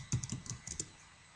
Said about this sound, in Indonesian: Agak susah ngetik pakai ini.